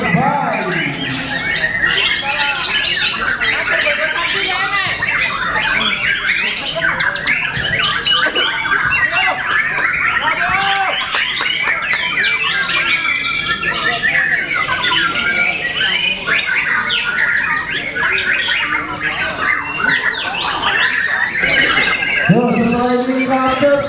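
White-rumped shama singing at a songbird contest in Tanjung Balai, a loud continuous stream of varied whistles and chattering phrases among other competing birds, with crowd noise throughout.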